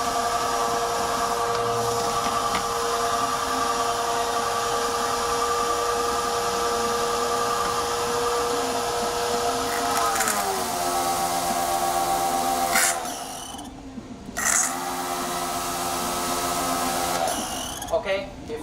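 An INGCO high pressure washer runs as a steady, loud motor drone with a constant tonal hum, shifting pitch slightly partway through and briefly dropping out before resuming, with no talk over it.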